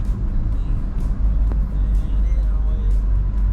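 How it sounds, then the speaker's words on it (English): Road traffic in a long truck-filled jam on a Botswana highway, a steady low rumble of idling and slow-moving engines heard from inside a vehicle, with a brief hiss near the middle. "traffic jam."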